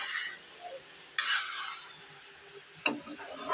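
Leftover cold rice with turmeric is stirred in a pan, heard as a soft sizzle broken by several distinct scraping pushes of a spatula, close and moderately loud, with no voices.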